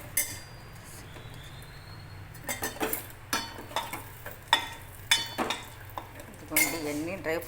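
Cashews and other dry fruits frying in a spoonful of ghee while being stirred, with a steady low sizzle beneath a series of close, irregular scraping and clinking strokes of the spoon against the pan.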